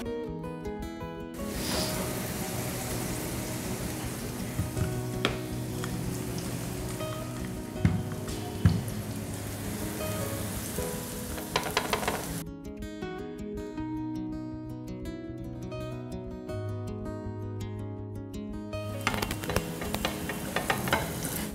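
A layered lachha paratha cooking in a hot pan gives a steady, close sizzle and crackle throughout, with a few brief clinks and scrapes along the way.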